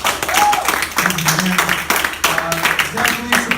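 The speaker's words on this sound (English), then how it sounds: "clap it up for Paul in the back." Comedy club audience in Rocklin, California clapping and cheering in bursts while a voice and crowd noise carry over the top, the applause rising and dipping unevenly.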